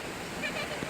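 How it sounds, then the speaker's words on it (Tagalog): Flowing river water at Balempalis Spring makes a steady broadband rush through the whole second, with no clear breaks or separate splashes. "Ilog lang to."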